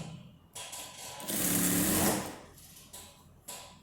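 Sewing machine running a straight seam on a wrap dress, a steady motorized whir that starts and stops in short bursts, with one longer continuous run in the middle, close and fairly loud.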